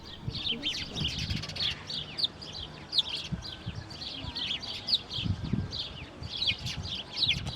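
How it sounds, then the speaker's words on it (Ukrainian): Sparrows chirp busily and continuously over a steady low outdoor rumble with occasional thumps, many short overlapping calls filling the whole stretch. "Горобець."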